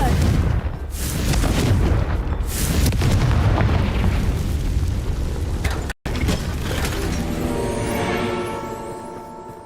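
A Confringo blast spell from Hogwarts Legacy goes off as a loud, rumbling explosion that swells and sustains, cuts out briefly, then a second burst decays with a ringing tail. No one talks over it.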